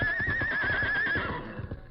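A big horse whinnies loudly in an old radio drama, a long wavering neigh that sustains and then fades, with hoof-like thumps and scuffling underneath throughout.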